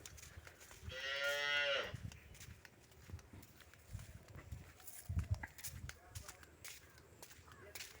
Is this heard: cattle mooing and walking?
yes